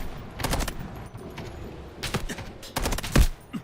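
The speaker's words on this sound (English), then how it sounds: "Stop shooting me." Gunfire in the video game Delta Force comes in several rapid bursts of sharp, close shots, spread across a few seconds with short gaps between them.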